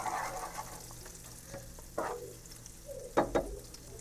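Stuffed squid, a Kozhikode-style filled squid dish, set into a hot pan and frying with a soft sizzle, plus a few clattering placement and stirring knocks near the end.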